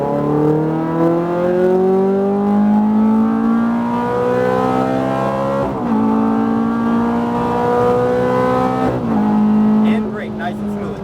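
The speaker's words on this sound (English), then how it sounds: "Go ahead, give it gas. Perfect, pedal to the metal," A Ferrari F430 accelerates hard at full throttle, its loud engine note climbing steadily through the gears with two brief dips at the shifts, while a driving instructor speaks over it.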